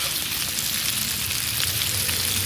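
Bacon strips sizzle and crackle steadily on a hot camping griddle at an RV breakfast, a dense, continuous close-up hiss with no talk over it.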